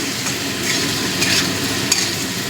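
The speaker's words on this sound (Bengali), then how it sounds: "মিশিয়ে দিচ্ছি।" Salted onions stirred while frying in a pan for a spicy fish dish, a loud close sizzle with scraping stirring strokes throughout and a sharper knock near the end.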